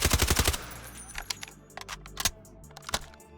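SMG fire in the Delta Force shooter game: a rapid full-auto burst opens, followed by scattered single shots and clicks at close range.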